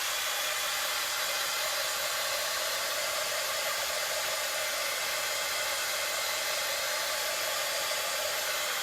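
Hair dryer blowing steadily to dry chalk paint before stenciling, a constant loud hissing rush of air that runs unchanged throughout with no voices.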